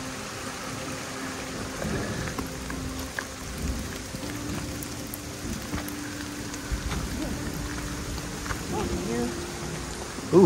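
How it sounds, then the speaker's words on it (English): Rain falls steadily on a summer monsoon hike along Clear Creek in Cimarron Canyon, a constant patter with a few louder drops and occasional low rumbles, and voices talk faintly underneath. "it's still raining"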